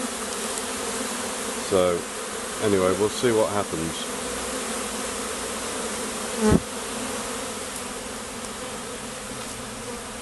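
A honey bee swarm hums continuously close by in a dense droning buzz, with louder passes of individual bees near the mic and someone speaking briefly over it.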